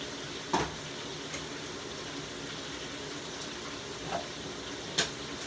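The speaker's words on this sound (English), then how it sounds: "Frying some chicken," Soft, steady sizzling of chicken frying in grease, with a few faint clinks and taps, no talking.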